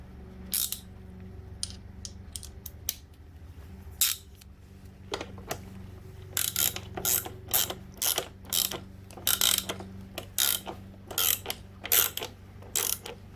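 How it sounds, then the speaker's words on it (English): Ratchet fitted with an extension undoing bolts on a vehicle mudguard, close rapid clicking bursts that grow more frequent and repeat in short strokes over a low background hum. "You got the ratchet? Yeah, I just need to put an extension on it."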